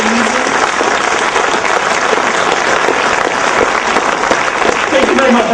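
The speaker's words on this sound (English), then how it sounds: "do you want to applaud? I really do think you should" An audience breaks into loud, sustained applause with dense clapping from a large crowd filling the room, steady and close for the whole stretch.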